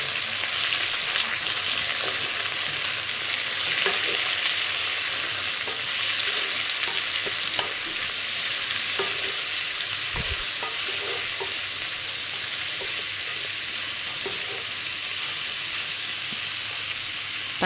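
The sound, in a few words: sautéing with salt and turmeric powder in a pan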